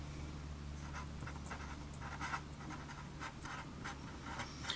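A marker drawing a line on a board during a math lesson on exponential functions, heard as a series of short, light squeaks and scratches close by over a steady low hum, with no talking.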